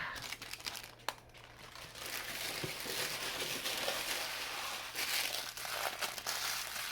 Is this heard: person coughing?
no